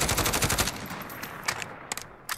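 SIG SG 550 rifle fired full auto in Call of Duty: Modern Warfare, a rapid close burst of shots followed by a few separate single cracks, loud with no talking.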